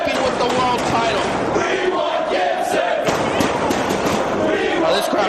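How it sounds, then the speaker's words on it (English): A loud, dense arena crowd at a wrestling event chants and roars for Gibson, filling the space continuously with layered voices and no pause. "This crowd's chanting for Gibson,"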